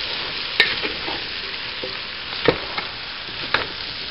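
Chorizo breakfast hash sizzling steadily in a hot skillet, with a few sharp scrapes and clinks from stirring scattered through the loud, continuous frying hiss.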